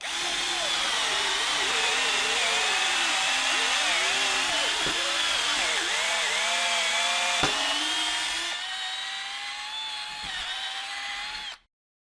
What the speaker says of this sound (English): We're gonna put this into each one of these drills, and I'm gonna use it to get through this wood.